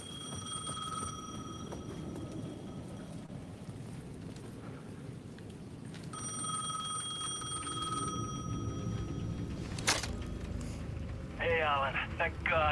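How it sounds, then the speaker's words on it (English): In the video game Alan Wake 2, a payphone at the edge of a plaza rings in drawn-out electronic bursts over steady rain and distant thunder, with someone talking quietly. "payphone at the edge of the plaza was ringing again."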